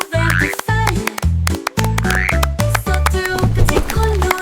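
Cartoonish frog croaks set in a children's song about little frogs jumping by a pond, repeated in a bouncy rhythm over musical accompaniment, loud and up front.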